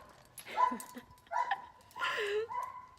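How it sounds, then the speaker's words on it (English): Several shepherd dogs bark and yip at close range in three short bursts, one of them a squeaky high-pitched bark, with whimpering between the barks. "You can literally hear them barking."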